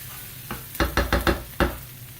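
Onions frying in a skillet with fresh minced jalapeno, a low steady sizzle broken by several quick scraping stirs of a spatula, close and moderately quiet, with no voices.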